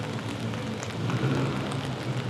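Steady rain falling on surfaces during Typhoon Pepito, a continuous dense patter with no voices, moderately loud and unbroken.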